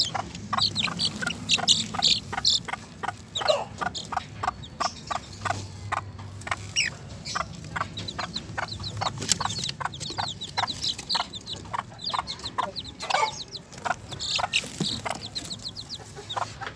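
Two-week-old Sebright bantam chicks peep in a small backyard coop, a dense, steady chorus of high rapid chirps with lower clucking from a mother hen, close by and continuous without talk.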